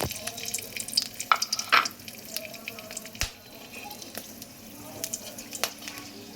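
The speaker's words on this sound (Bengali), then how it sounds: "এবার আমি ওই তেলে দিয়ে দেব গোটা গরম মশলা আর শুকনো লঙ্কা" Whole garam masala and dried chillies spit and crackle in hot oil, with a burst of sharp pops early on settling into a lighter close sizzle with scattered crackles and a clink, and no speech.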